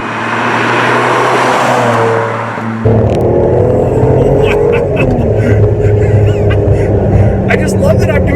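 Ferrari 550 Maranello engine drops in revs, then blips sharply during a gear change, the cabin drone shifting abruptly to a busier, rougher note; loud and close, with a voice talking over it.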